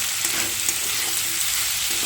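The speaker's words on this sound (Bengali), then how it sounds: "তো সবজিটা ভাজলাম" Vegetables fry with chilli powder, turmeric and salt for sambar with onions, a dense, even sizzle close by with light stirring and no talk.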